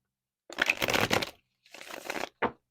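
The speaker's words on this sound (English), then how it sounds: "Let's give them one good shuffle." Tarot cards are shuffled up close in a few quick bursts: a long riffling rustle, a pause, a second softer run, then one short snap of the deck.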